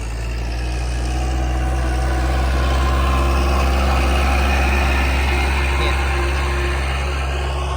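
A tractor engine runs continuously while ploughing a rice paddy, a steady, loud, low mechanical drone that stays close and even throughout with no talk.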